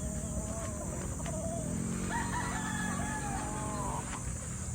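Chickens and fighting roosters on a Philippine backyard farm crow repeatedly over continuous soft clucking, with several overlapping crows close by and a steady outdoor background.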